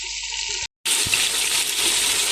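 Water gushes steadily from a glass into a cooking pot while beef paya is being prepared, a continuous close splashing pour with a brief gap near the start, no talking.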